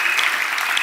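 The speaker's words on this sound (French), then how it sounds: "Acclamons très fort le Seigneur Jésus." A church congregation applauds loudly and continuously, a dense wash of clapping hands lasting under a second.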